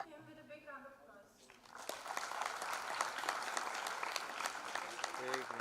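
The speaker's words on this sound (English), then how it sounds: "Please join me in welcoming him with a big round of applause." Someone speaks briefly, then a large audience at a global alumni meet breaks into a full, steady round of applause that fills the hall and keeps going to the end.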